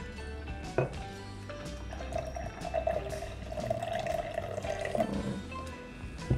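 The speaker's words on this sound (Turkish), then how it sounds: "Şimdi de koruk suyunu koyuyoruz." Unripe grape juice (verjuice) trickles into a bowl of tarator, a soft liquid pour and drip with a thin sustained trickle in the middle, faint and close with small clinks.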